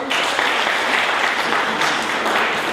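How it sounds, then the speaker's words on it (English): Church audience at an inter-homecare Bible quiz applauding the participants, a dense, loud burst of clapping sustained throughout, with no talk over it. "Hey, clap for them."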